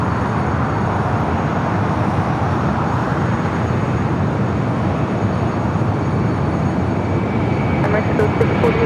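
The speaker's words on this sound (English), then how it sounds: "Next takeoff." An airliner departs from LAX, a loud, steady broadband jet roar filling the whole stretch without letup, with faint voices mixed in underneath.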